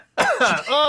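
A single deep, loud cough from an adult man, close up, raspy and quickly over.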